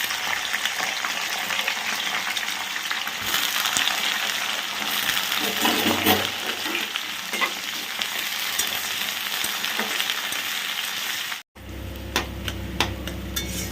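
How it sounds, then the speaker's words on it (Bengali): Capsicum and ginger fry in a pan for chilli broccoli, a continuous loud sizzle with occasional stirring scrapes, briefly cut off before the sizzling resumes. "ক্যাপসিকাম ফ্রাই হতে একটু সময় লাগে,"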